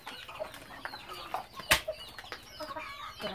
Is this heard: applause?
no